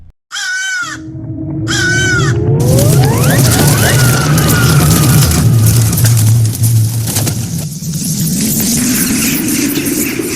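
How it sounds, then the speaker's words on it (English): Two loud, harsh crow caws ring out close by, then give way to a continuous loud rushing roar with a rising, whining tone. "Crows are known for their loud cawing and cunning larceny"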